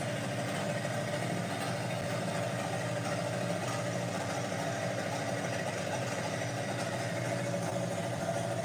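A car engine idling roughly with its timing off, a steady low rumble with uneven vibration, close and continuous with no talking.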